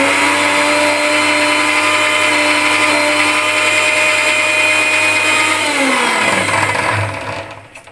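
A blender grinds roasted peanuts into peanut butter with a loud, steady whirring drone up close, its pitch sagging as it runs, then it winds down and stops near the end.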